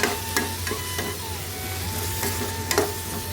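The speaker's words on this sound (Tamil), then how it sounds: "அதுக்காண்டி நல்லா எண்ணெயிலே வதக்கிடணும்." Masala sautéing in oil for a Chettinad pumpkin tamarind curry, a low continuous sizzle with a few light spoon scrapes, close and moderately quiet.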